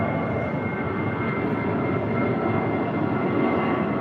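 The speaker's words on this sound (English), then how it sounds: "And the special livery with JetBlue," A JetBlue Airbus A320 jet airliner gives a loud, steady, broadband engine roar that fills the whole clip at close range, with no talk over it.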